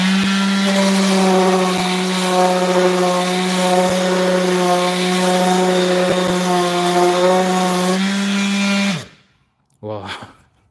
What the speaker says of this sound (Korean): 제가 한번 7단으로 모서리 샌딩 해보도록 하겠습니다.